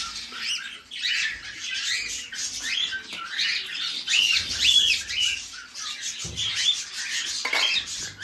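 A pair of caged pet birds squawk and chirp nearby in repeated harsh bursts, with light clinking of a feeding dish in between.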